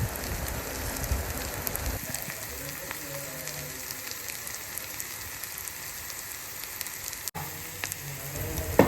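Onions and green chilies frying in oil for a raw mango and small fish curry, a steady close hiss like rain with a louder burst of sizzling as they hit the pan, plus occasional stirring clicks.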